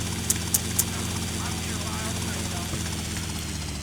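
Helicopter rotor thrum in the GTA Vice City mod Tightened Vice, a steady low drone running throughout beneath someone talking, with a few sharp clicks near the start.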